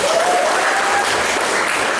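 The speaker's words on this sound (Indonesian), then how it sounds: "Tepuk tangan buat kita semua." A room of seminar attendees at a Kampung Inggris Pare technical briefing claps together in a loud, continuous burst of applause that holds steady throughout.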